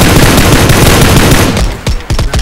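Rapid automatic gunfire from a weapon in PUBG Lite, a dense, loud burst of continuous shots for about a second and a half, then a few separate sharp shots trailing off.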